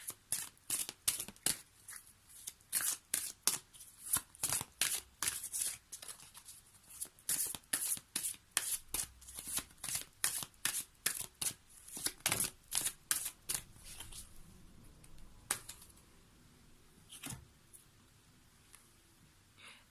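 Ganesh oracle cards are shuffled by hand in fast, repeated bursts of crisp riffling and slapping, close and steady for about fifteen seconds before easing into a few sparse flicks, with no talking.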